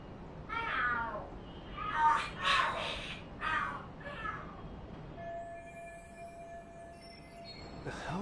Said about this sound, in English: The hell? Are there cats fighting?